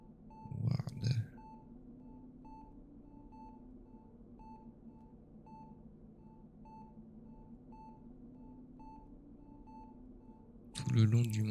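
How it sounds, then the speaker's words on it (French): In the video game Welcome to the Dark Place, a medical monitor in a hospital ward gives short, regular beeps at an even pace, soft and steady behind a quiet hum. Brief louder noises break in at the start and end. "Derrière eux, je peux entendre des bips de moniteurs."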